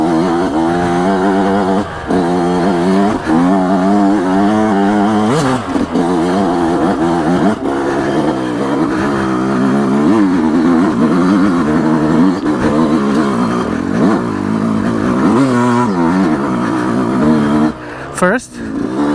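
A Yamaha YZ125X two-stroke dirt bike engine revs hard and close on a difficult trail section, its buzzing pitch climbing and dropping through gear changes, with a rider's voice heard briefly over it.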